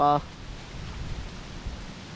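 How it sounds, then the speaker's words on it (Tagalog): Strong wind buffets the microphone in a low, uneven roar of gusts over plantation fields at a mango farm, after a very brief voice at the start. "Utoy, lakas ang hangin."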